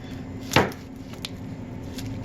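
A dull knife makes a single crunching cut into a microwave-baked onion, followed by a couple of fainter taps against a quiet background.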